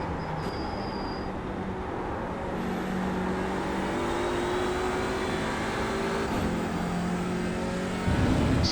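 Audi touring car in iRacing at Canadian Tire Motorsports Park, engine droning steadily at high revs with shifting harmonic tones, close and continuous, swelling louder near the end.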